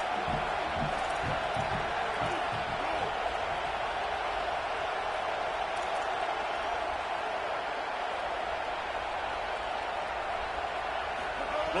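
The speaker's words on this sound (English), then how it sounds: "This crowd knows when to bring it." Stadium crowd cheering in a college football video game, a dense steady roar of many voices filling the space with no pauses, loud and continuous throughout.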